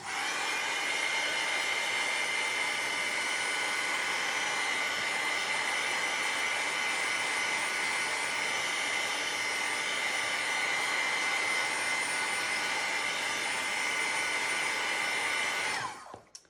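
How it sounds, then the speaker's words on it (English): A heat gun blows continuously to heat set a recycled book page faux leather craft surface, a loud, steady, close whooshing hiss with an even tone that cuts off abruptly at the end. "I'll use my heat gun because the next step is going to take a lot of it off"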